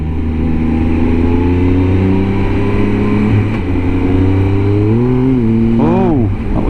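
Car engine revving hard and loud inside the cabin on the A595 between Greenodd and Gosforth, its steady drone climbing in pitch then surging sharply as the clutch slips near the end.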